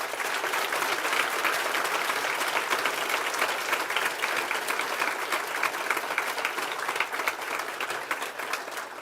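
A conference audience applauds loudly and steadily, dense even clapping from a large crowd sustained throughout without a break.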